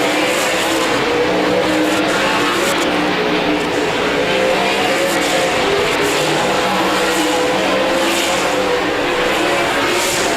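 Several 360 sprint cars race at Park Jefferson Speedway, a steady, dense engine roar holding at high volume throughout with no talk over it.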